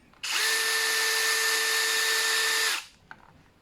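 A PRO STORMER 20V brushless hammer drill revs up sharply, runs at a steady high-pitched whine for about two seconds, then spins down, close and loud with a small click afterward.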